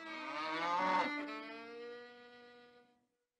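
A cow moos once in a long, drawn-out call that swells and then fades, loud and close, with no talk around it.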